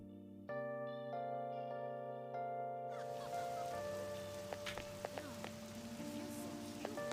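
Rain patters steadily in Persona 5 Royal, a broad hiss of drops on surfaces that swells in after soft sustained music, with a few sharper splashes standing out.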